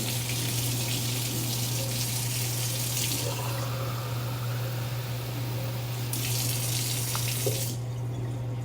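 Warm water runs from a kitchen tap into a measuring cup for pretzel dough, a steady close hiss and splash with a constant hum beneath. The flow changes pitch partway through as the cup fills.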